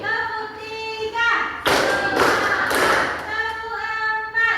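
Several quick, loud hand claps land in a rhythmic burst, set between stretches of a sung or chanted voice.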